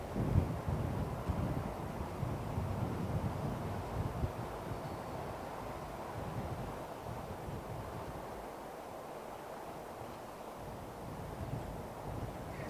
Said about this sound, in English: Certainly more of a headwind now than it was earlier